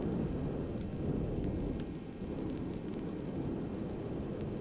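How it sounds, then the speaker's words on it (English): An old tape recording plays back nothing but a continuous low droning hum with a hiss, steady and muffled throughout, with no voices. "this is all the tape has on it now. This drone. The hum"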